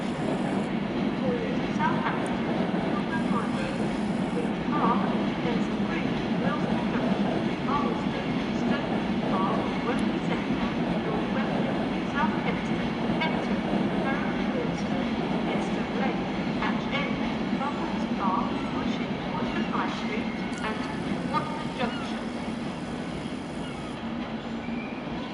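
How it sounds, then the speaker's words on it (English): A Virgin class 390 train pulls out of a station, a steady broad rumble of wheels and traction with faint wheel squeal and clicks running throughout, with some background voices. "A Virgin train service interestingly terminating at Carlisle departs"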